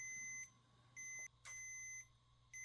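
A 27-year-old laptop at 0% battery gives repeated, faint, high-pitched electronic beeps in an even on-off pattern, each tone lasting about half a second with short gaps and a soft click between.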